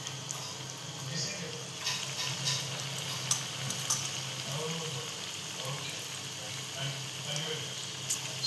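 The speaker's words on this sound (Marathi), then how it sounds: "राहिलेले पण तसेच फ्राय करायचे आहेत आपल्याला" Taro leaf (aalu pan) pakodas fry in hot oil with a continuous, moderately loud sizzle and bubbling, with occasional light clatter and a faint voice underneath.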